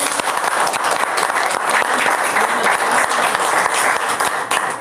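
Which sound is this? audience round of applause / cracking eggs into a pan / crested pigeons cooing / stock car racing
audience round of applause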